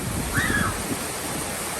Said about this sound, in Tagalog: Sa lakas ng hangin, ayan oh.